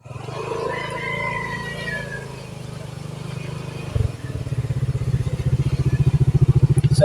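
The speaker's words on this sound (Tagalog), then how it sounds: "Motor na lang kami." A motorcycle engine idles with a low, rumbling pulse, then picks up into a faster, louder, steadily throbbing run as the ride begins.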